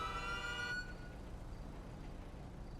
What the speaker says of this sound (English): When do coroners get sirens?